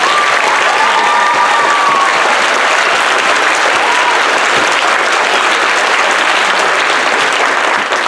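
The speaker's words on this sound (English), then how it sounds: "Let's give our veterans one more round of applause" Loud, sustained applause from a big audience for veterans at a school Veterans Day program, many hands clapping in a dense steady roar that continues unbroken, with a thin whistle-like tone briefly audible near the start.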